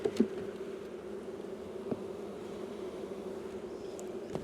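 Honey bees hum steadily around an open hive during hive reduction, a soft continuous drone with a few brief nearer buzzes and light handling knocks.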